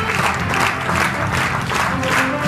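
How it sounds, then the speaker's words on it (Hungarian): An audience at a Hungarian theatre awards gala claps in sustained, rippling applause that swells and eases slightly, with a faint crowd murmur underneath. "az önök tapsa most nem a ruhákat bemutató színészeket, nem a jelmezeket eredetileg viselő nagynevű művészek emlékének, hanem a ruhák készítőinek"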